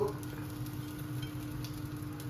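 Sliced onion and tomato sizzle steadily in a frying pan for a vegetable egg roll, a soft, continuous crackling hiss at close range with no talk.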